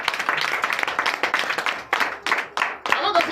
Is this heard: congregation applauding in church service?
yes